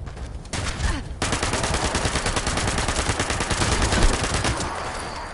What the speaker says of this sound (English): Time to pull out the big gun.